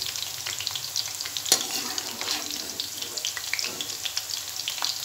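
Okra (bhindi) fries in a pan with a dense, bright sizzle, close and continuous, with soft scraping of a spoon stirring now and then and one sharper clink.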